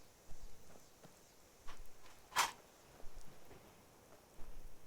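Horse hooves clip-clop in scattered steps over a quiet, faintly noisy background in the video game Skyrim, with one sharper click standing out midway.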